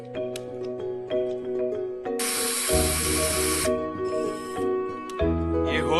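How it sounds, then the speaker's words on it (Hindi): Drilling holes in a metal piece for a bicycle frame, a loud hissing, grinding burst lasting over a second and then shorter bursts, all over background music. "अब इसमें होल ड्रिल कर लेते हैं।"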